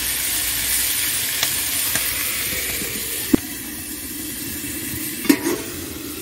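Okra and potatoes simmering in a covered pan give a steady, soft sizzle and hiss throughout, with a few faint clinks against the lid.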